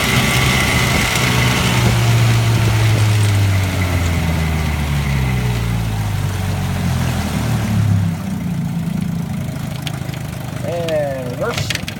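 A 1957 Johnson 7.5hp outboard motor fitted with a replacement power head runs loudly and steadily nearby, its droning pitch sliding as the revs change, then settling to a slightly quieter run.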